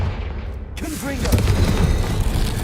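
Confringo fire-blast spell cast in Hogwarts Legacy, a booming burst that swells and rumbles for a couple of seconds behind music and a voice.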